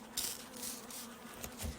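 Honeybees buzz inside a wooden shipping box, a faint, steady low drone with a few soft knocks and rustles, heard close and without talk.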